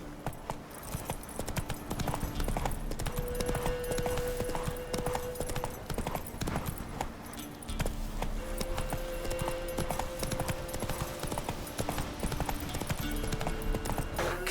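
Roach, the horse in The Witcher 3: Wild Hunt, clip-clops at a steady walking rhythm through the whole stretch, the hoofbeats loud and close over a constant game background.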